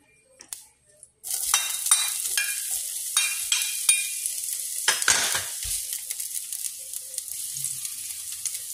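Onions dropped into hot oil in a pan for fried rice, a sudden bright sizzle that settles into steady crackling frying, with stirring clicks and scrapes early on, no talk.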